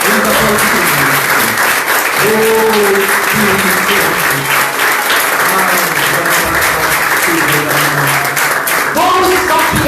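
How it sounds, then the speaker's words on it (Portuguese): Dense, steady applause from a church congregation fills the whole stretch, with voices and singing-like tones rising under the clapping throughout. "Vamos aplaudir."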